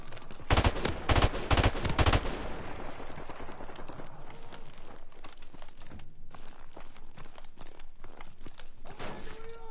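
Video game gunfire: a burst of loud rapid shots up front, then scattered distant pops and cracks continuing over a low background, with no talking.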